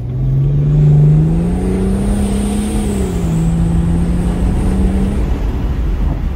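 A BMW 335d E92 diesel with stage 1 tuning and downpipe accelerates steadily, its engine note rising through the gears as a loud, continuous drone with a faint whistle above.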